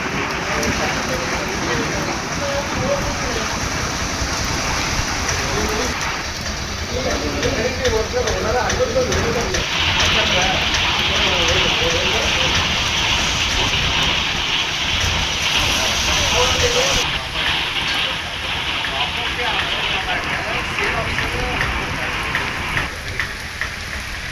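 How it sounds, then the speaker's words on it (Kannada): First rain of the year after a long hot dry spell, pouring steadily onto surfaces in a continuous dense patter, with people talking under it. "ವರ್ಷದ ಮೊದಲ ಮಳೆ"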